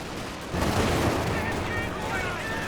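A Panzer IV tank cannon fires in Company of Heroes 2, a heavy booming blast followed by sustained rumbling battlefield noise and distant gunfire, with a commentator's voice running underneath.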